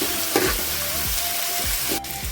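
Tomatoes, mint and coriander are stirred in a frying pan for egg dum biryani, a dense continuous sizzle with repeated scraping strokes of the spoon, close and fairly loud with no talking.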